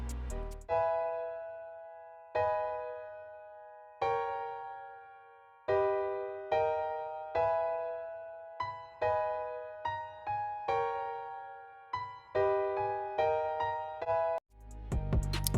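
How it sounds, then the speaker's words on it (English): Dry piano without effects plays chords in a DAW for a drill beat: a steady series of struck chords and single notes with clean decays, moderately quiet and close, with no voice. "this is the piano dry,"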